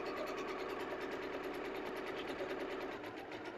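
A sewing machine stitches a seam with a steady, fast, close mechanical whir and rhythmic needle clatter that runs without pause for several seconds.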